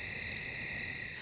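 Crickets chirping at night, a steady high, even trill that carries on without a break under a faint low background hum, with no voices present.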